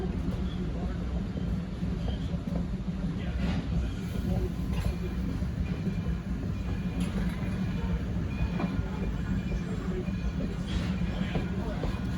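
A Chicago CTA train rumbles steadily nearby with rhythmic clicking of wheels on track and occasional metallic squeals, sustained throughout at moderate level.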